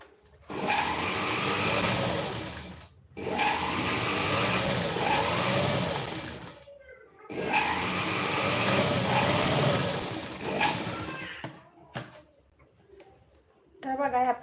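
A sewing machine stitches blouse parts in three long, loud runs separated by short pauses, then a final brief burst at the end.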